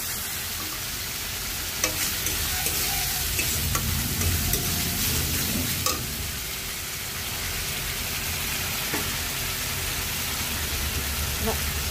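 Curry with cauliflower and fish cooks in a pan, a steady sizzle of frying running throughout with scraping stir strokes and occasional utensil knocks close by.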